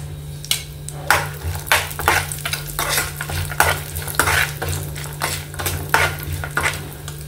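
Cashews fry in a pan for sabudana payasam while a spoon stirs and scrapes against the metal in a steady rhythm of clinks over a soft sizzle.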